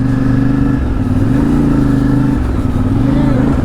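A CF Moto 450MT motorcycle engine riding up a valley road, with a steady, loud, close drone and slight pitch dips as the throttle shifts.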